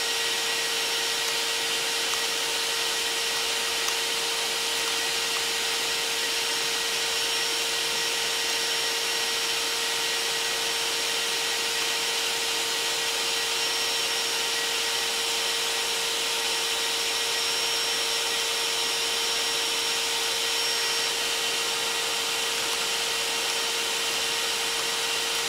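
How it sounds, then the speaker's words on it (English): A continuous high-pitched whine of a drill with a grinding bit running steadily against wood, shaping a part for a caster wheel axle, unbroken and close, without speech. "Or with our grinding bit on our drill"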